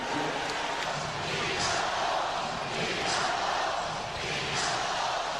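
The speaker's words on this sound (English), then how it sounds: "Listen to this crowd at the Delta Center." Basketball crowd chanting at the Delta Center during an NBA Finals game against the Chicago Bulls, a loud, sustained roar with rhythmic swells of chanting voices.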